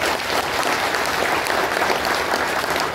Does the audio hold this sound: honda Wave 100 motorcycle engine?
no